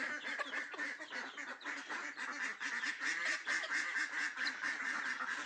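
A flock of young farm ducks quacks continuously and loudly nearby, with overlapping calls forming a dense, busy chorus.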